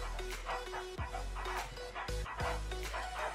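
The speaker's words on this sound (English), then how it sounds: "Hey, Mr. Dragon, you gotta get your dog" A dog barks and yips repeatedly in the background, its calls rising over a steady, busy ambient bed with no clear talk.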